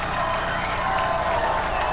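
A high school football stadium crowd at Council Grove versus Humboldt roars steadily, a broad wash of cheering and clapping with no break, a bit distant.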